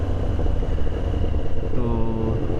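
A Yamaha R1S sport motorcycle engine runs steadily nearby, a close, even mechanical drone with a faint whine rising near the end.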